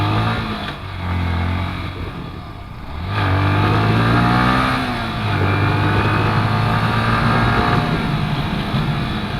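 Yamaha M-Slaz motorcycle engine revs and accelerates while riding, the pitch rising through gear changes after a brief lull, with steady wind rush throughout.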